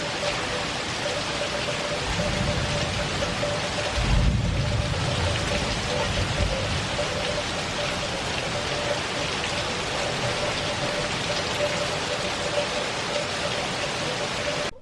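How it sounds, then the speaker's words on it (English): Steady heavy rain pours down in a constant dense hiss, with a low rumble briefly swelling partway through. "And boy, is it raining. It is coming down pretty good."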